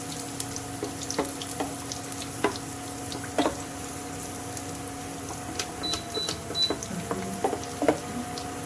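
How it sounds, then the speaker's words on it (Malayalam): Crushed garlic and dried red chillies fry crispy in hot oil, making a soft, close crackle with scattered sharp pops and spits over a low steady background, with no talking. "നമ്മുടെ വെളുത്തുള്ളിയും ഉണക്കമുളകും അതും ക്രിസ്പി ആയിട്ട് വന്നിട്ടുണ്ട്."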